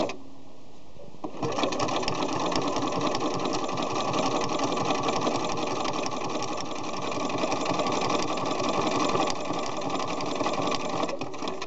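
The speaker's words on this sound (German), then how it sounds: "Wenn ich jetzt nähe, jetzt muss ich bei meiner Maschine nur den ersten Knopf drücken." Domestic sewing machine stitching curtain fabric, a fast steady mechanical whirring and needle chatter that starts after a short pause and runs continuously and close by.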